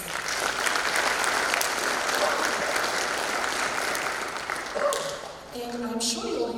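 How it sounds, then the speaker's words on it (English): An audience at a jazz festival applauds its administrators with a sustained, dense round of clapping that fills the hall and eases toward the end, with a few brief voices and tones rising near the close. "can we give our administrators a round of applause, please?"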